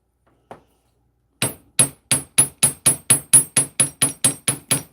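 Hammer blows flattening the end of a copper S-hook for chain jewelry, one light tap followed by a steady run of about a dozen sharp, ringing metallic strikes close by.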